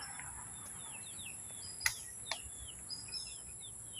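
Faint chirps and clucks from chickens near their coop in a quiet outdoor setting, a few sharp calls rising over a steady high insect-like hum.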